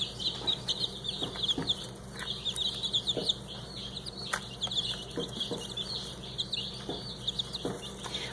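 Young bantam chicks peep in repeated high, quick chirps that continue steadily, fairly faint, over a low background hum.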